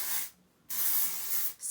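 Hair spray hisses onto hair in two steady bursts separated by a brief pause, close and fairly loud, with a third burst starting at the end.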